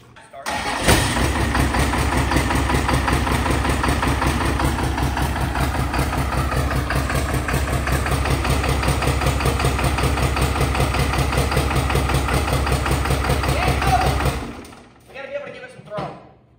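A Cummins diesel swapped into a Squarebody truck cranks and fires, then settles into a loud, steady low rumbling idle for about thirteen seconds before cutting off; voices talk briefly near the end.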